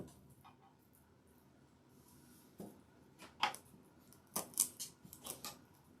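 Foam craft material being cut for a patriotic centerpiece, faint snipping and scraping in a few short, irregular bursts near the end, close and quiet, with no talking.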